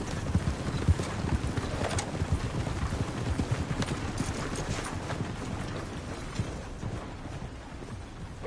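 Horse hooves clip-clop in steady, rapid rhythm across the ground while riding in Red Dead Redemption 2, a dense continuous patter mixed with rustling, no voices.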